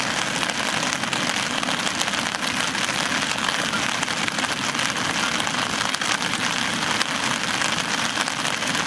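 Rain falls steadily at a rainy solo campsite by the Kasukawa river, a continuous dense patter and hiss on surfaces nearby, unbroken for several seconds with no talk.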